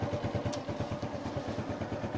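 A motorcycle engine idles steadily nearby with a low, even chugging pulse and light mechanical clatter, running alone with no talk.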